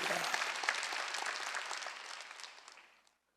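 A church congregation at a Wednesday worship service claps in a dense burst of applause that fades out over about three seconds.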